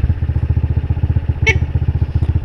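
A motorcycle engine idles close by with a loud, steady, rapid low putter, with one brief sharp squeak partway through.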